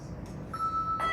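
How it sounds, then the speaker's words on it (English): A single tone chime held up in the air and struck with a mallet gives a light tap and then a thin, pure, steady ring that carries on faintly after the strike, with quiet room noise around it. "you can hold the bell in the air and hit it with a mallet, and that sounds like this"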